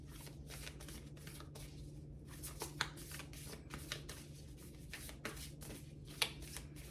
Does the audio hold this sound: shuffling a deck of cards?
yes